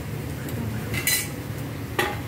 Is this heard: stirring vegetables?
yes